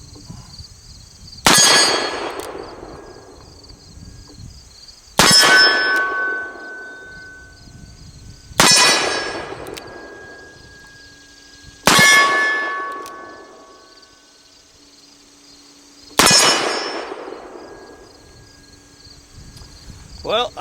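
Five sharp revolver shots ring out, each followed by a bright metallic clang from a steel target that decays over a second or two, spaced several seconds apart with quiet insect-like background between.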